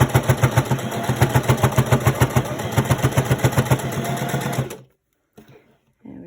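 A sewing machine stitches through bulky pleated face mask fabric, running in a fast, even mechanical chatter for several seconds, then stopping, followed by a short faint rustle.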